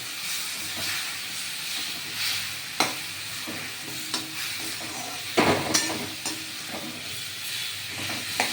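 Ground spices (chili, coriander and cumin powder with a little sugar) fry in a pan for a bottle-gourd kofta curry, giving a steady sizzle and hiss broken by repeated spatula scrapes and knocks, close and alone.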